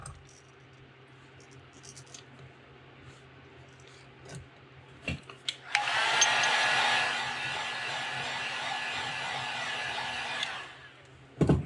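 A heat gun blows steadily for about five seconds to set paint on a crankbait lure, a loud continuous whoosh that starts abruptly and cuts off, with faint handling clicks before and after.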